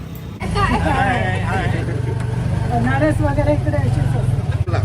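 An auto rickshaw rumbles through narrow lanes in the temple town of Jagannath Puri, its steady engine drone running under close talk from passengers.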